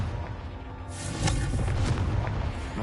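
A blasting fire-spell explosion in the Hogwarts Legacy video game: a single deep boom swelling up after a low rumble and sustaining loudly to the end.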